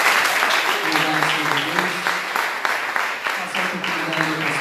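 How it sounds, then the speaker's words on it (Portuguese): A church congregation clapping during a morning service, quick rhythmic, fairly close hand claps in a steady beat, with low voices or singing faintly running beneath. "Vamos aplaudir ao Senhor?"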